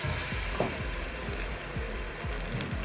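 Boiled eggs coated in a thick flour slurry fry in hot oil, giving a continuous close crackling sizzle with small popping ticks throughout.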